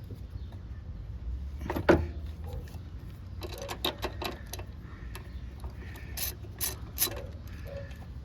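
A socket ratchet loosens a corroded 12 mm axle pinch bolt during rear wheel removal on a Honda GL1500 Goldwing motorcycle. Close, distinct ratcheting clicks come in several short bursts with pauses between strokes, plus a metallic clunk early on.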